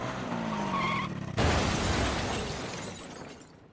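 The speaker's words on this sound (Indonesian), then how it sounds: "Dia naik motornya Tokyo dan dia nabrak mobil." A motorcycle crashes into a car in the film Crows Zero: steady engine and road noise, then a sudden loud impact with a crunching, skidding burst that fades away.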